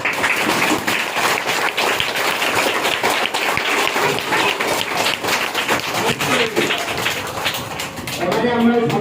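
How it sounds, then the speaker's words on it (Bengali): Audience applause for Ekta Foundation officials at an inauguration event in Katamari, Sundarbans, a sustained loud crowd clapping that lasts several seconds and fades near the end as a voice begins. "তাহলে ওনাদের উদ্দেশ্যে একটা হাততালি।"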